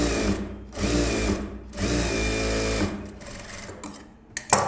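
Sewing machine stitching a blouse hem, loud rapid mechanical runs in three bursts separated by short pauses, then quieter clicks and handling noises at the end, no talking.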